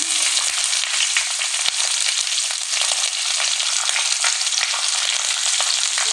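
Finely chopped onion hitting hot oil already seasoned with ginger, bay leaf, cloves, cardamom and cinnamon, a loud, dense, continuous hiss up close with a few faint clicks and no talking.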